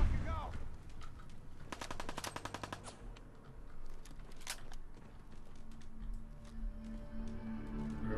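Rapid machine gun bursts from an automated turret in the Fallout 4 video game, a dense rattling volley in the middle of the clip among scattered shots and game ambience, with faint muttering underneath.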